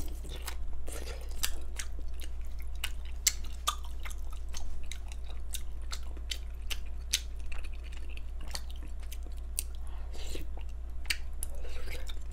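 Chewy potato ongsimi dumplings are chewed close to the mic with soft, sticky, squelching bites and faint clicks over a low steady hum, and quiet talk is heard now and then.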